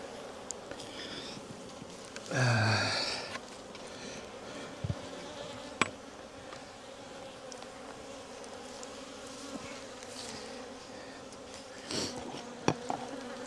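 Honey bees buzz continuously inside a queenless hive during a yard inspection, a steady close drone with a louder bee passing near at moments and occasional soft knocks and clicks.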